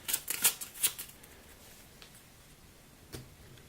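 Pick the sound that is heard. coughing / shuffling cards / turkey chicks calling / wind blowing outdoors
shuffling cards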